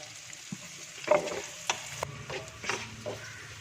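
Sliced onions with a pinch of salt sauté in a pan for ghee rice, giving a soft, steady sizzle broken by a few scraping stirs of a spoon, quiet and close.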